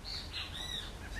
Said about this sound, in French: écoutez le chant des oiseaux, peut-être que vous les entendez derrière moi